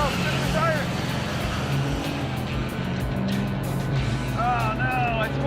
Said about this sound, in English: Oh no, I spun the tires bad